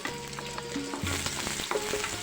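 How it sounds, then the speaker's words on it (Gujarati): Finely chopped onions sizzle in a spoonful of hot oil for Chinese fried rice, a continuous close frying hiss with scraping stirs and light clatters of a spoon in the pan. "હવે તેમાં આપણે આ ઝીણા સમારેલા કાંદા એડ કરી દઈએ."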